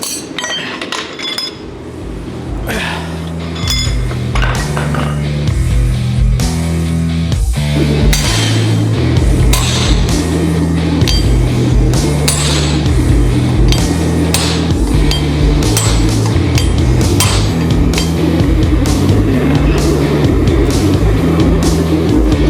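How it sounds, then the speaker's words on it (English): Hammer forging a giant knife from a broken leaf spring, loud ringing metallic blows struck in a steady rhythm over a constant droning background, continuing at close range. "All right, we're almost done with the forging now."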